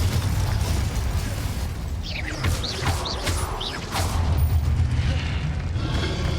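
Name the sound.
spell explosions from video game Hogwarts Legacy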